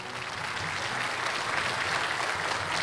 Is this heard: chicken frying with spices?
no